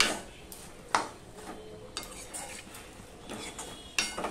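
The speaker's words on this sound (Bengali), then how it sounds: "ভালো করে মিশিয়ে নেব।" A spoon works through papaya curry in a pan, giving repeated scrapes and soft clinks against the metal at an unhurried, irregular pace over a faint background.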